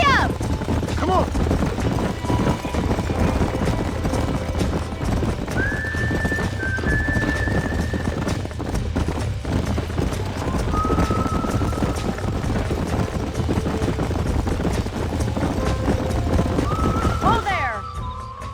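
Horse hooves clip-clop and gallop in the Western video game Red Dead Redemption, a steady rhythmic drumming that runs throughout, with occasional whistles and voices over it.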